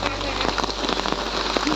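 Steady rain patters on surfaces at a Goa street market ahead of Ganesh Chaturthi, a dense continuous hiss with scattered nearby drips, while a voice talks over it.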